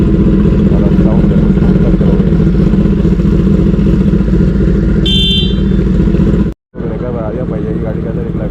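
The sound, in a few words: motorcycle engine sound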